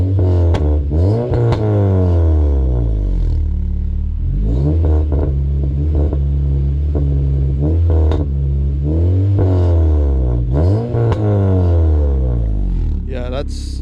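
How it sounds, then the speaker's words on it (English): A ninth-generation Honda Civic Si engine idles and revs repeatedly from a warm start, each rise in pitch swelling and falling back, loud and close throughout. "So I'll give you a couple of revs and see how it sounds."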